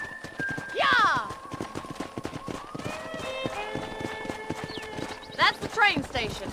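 Horse hooves clip-clop in a Wild West video game, a quick galloping rhythm with a whinny near the start and again at the end, while game characters talk over the hoofbeats.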